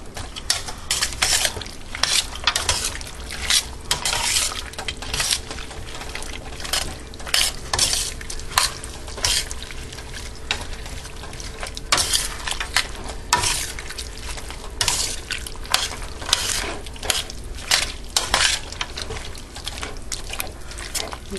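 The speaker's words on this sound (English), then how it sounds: "Give it a stir. It's going to get glossy in just a second when it gets all the way heated through" Chow mein sauce heating in a pan is stirred steadily, a continuous sizzle with scraping and clinking of a utensil against the pan, close and fairly loud throughout without speech.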